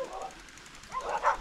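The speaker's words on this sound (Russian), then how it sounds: "Ой, собаки там лают." Dogs barking somewhere off in a rural farmyard with goats and sheep, heard on a bicycle trip toward a winery near Sremski Karlovci; a few distant barks rise near the end over faint background and a voice.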